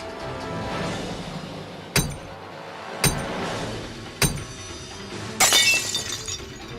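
Safety glass in a window being struck hard again and again: four sharp impacts roughly a second apart, each a loud crack with ringing clinks, the last a longer crunching shatter, all over a steady background hum.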